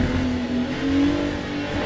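Ferrari 296 LMGT3 race car engine at Fuji Speedway in Le Mans Ultimate, a steady loud drone with the pitch rising gradually, running alone without talk.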